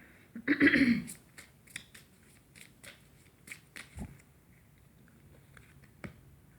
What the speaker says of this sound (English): Let's take one more card here.